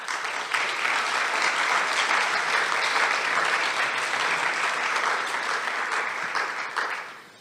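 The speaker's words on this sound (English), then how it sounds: "So also a big applause to the sponsors." Sustained applause from a conference audience at a developer event, a dense, even clapping that fills the space for several seconds before tapering off at the end.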